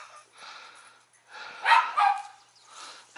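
A dog barks and yips in a short run of sharp, mid-pitched calls, loudest in a close pair near the middle, with softer whimpering barks before and after.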